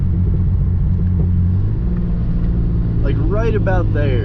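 A Genesis Coupe 3.8 fitted with ARK downpipes drones in a steady, loud low engine rumble throughout, with someone talking briefly near the end.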